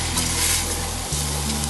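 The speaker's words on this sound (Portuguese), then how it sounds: "Mexer esse arroz lá dentro, junto com a cebola." Risotto rice stirred with golden onion in a hot pan, a steady close sizzle and frying hiss with the soft scrape of stirring throughout.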